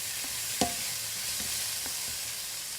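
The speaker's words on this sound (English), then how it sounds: "Cook on medium-high heat while stirring constantly until the tomatoes are mushy and pulpy." Tomato masala for dal fry sizzles steadily in hot oil over medium-high heat, with a spoon scraping and stirring through the pulpy mixture in a few distinct close knocks.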